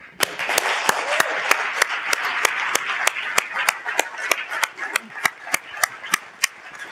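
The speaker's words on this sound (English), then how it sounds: "please join me in one more round of applause for our athletes" An audience at a brand launch event applauds Canadian Olympic athletes, a steady wash of clapping with sharp, evenly spaced loud claps from one nearby person cracking through in a regular rhythm.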